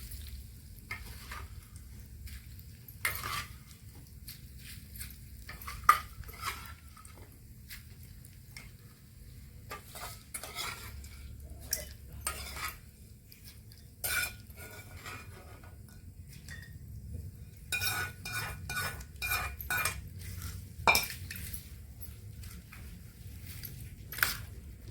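A ladle stirs hot tempering into cut mango pieces for a village-style mango pickle, giving repeated irregular scrapes and clinks against the vessel over a quiet background for the whole stretch.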